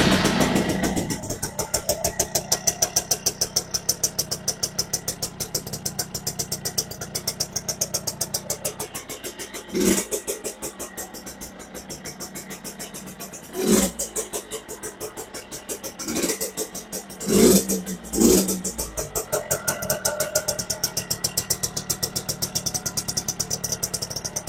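A cheap used farm motorcycle, kick-started, idles with a rapid steady putter, then revs in several short surges before settling back to idle, with people talking nearby.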